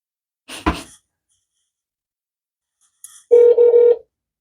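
A telephone keypad dialing a toll-free number: a short burst of noise, then after a pause a few clear touch-tone beeps in quick succession, close and isolated against silence.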